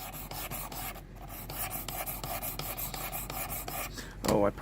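A knife blade is stroked along a 600 grit stone on a Worksharp Precision Adjust sharpener, giving repeated rhythmic rasping scrapes at close range, with a louder clatter at the end.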